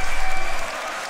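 A crowd at a beatbox battle claps, loud and dense at first, then fading to a softer patter within about a second.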